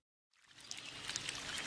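Mountain stream in the Basque Country hills, its water rushing and splashing in a steady, continuous wash that fades in after a moment of silence and holds at a soft, even level.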